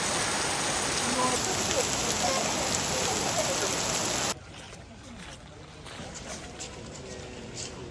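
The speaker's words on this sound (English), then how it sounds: "For now, it's just started to drizzle with rain" Light drizzle falling outdoors on a city street in Tokyo, a dense, steady patter that is loud at first, then drops abruptly to a softer, more distant hiss with scattered drip sounds.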